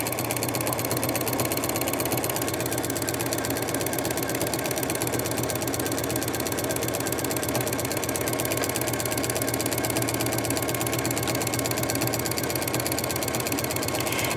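Running without pause, a sewing machine stitches the last back seam of a diaper bag with a steady, rapid mechanical hum and needle chatter, close-up and even in level.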